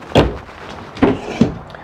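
Drawers in the outdoor kitchen of a 2022 Keystone Cougar 25DBSWE RV slide and thump three times, close and fairly loud, with short pauses between each clunk.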